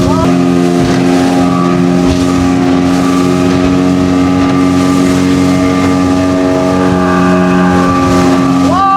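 A speedboat engine drones loud and steady throughout a ride at the Shopnopuri resort, with a continuous hum of motor and water noise and no pauses.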